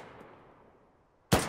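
A single sharp gunshot cracks out abruptly at the end in the video game DayZ, after a near-silent lull.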